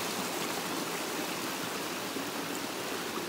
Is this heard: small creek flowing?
yes